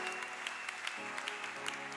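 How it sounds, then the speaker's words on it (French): A church congregation applauds and cheers for Jesus, a dense steady patter of many hands clapping together, moderately distant and continuous for the whole stretch. "Est-ce qu'on peut acclamer pour Jésus?"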